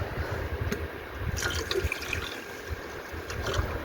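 Hydrochloric acid poured into a container and rinsed down its sides to cover scrap laptop hard-drive parts, a steady close liquid trickle and splashing that runs throughout with a few brief clinks, no talk.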